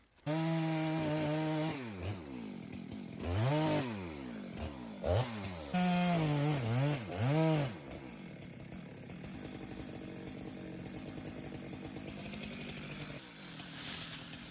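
A chainsaw cuts down a tree near a parked shipping container. The engine screams loudly and close, rising and falling as the throttle is revved through the cut, then settles to a long, steady roar.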